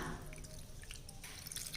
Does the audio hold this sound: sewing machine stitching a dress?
no